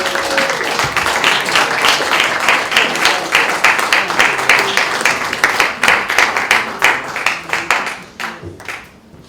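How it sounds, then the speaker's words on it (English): An audience at a student film festival Q&A claps for the filmmakers, a steady sustained round of applause with individual hand claps audible up close, thinning out toward the end. "Let's applaud for the filmmakers as they're coming down."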